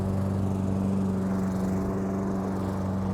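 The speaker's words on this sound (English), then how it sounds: "Sorry, somebody's mowing right here." A lawn mower runs close by with a steady droning engine hum and strong low harmonics, continuous and fairly loud throughout with no talking.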